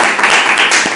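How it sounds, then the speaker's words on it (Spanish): Audience applause in a theater, a brief dense burst of clapping that is loud and close throughout. "Un aplauso para Juan Pablo."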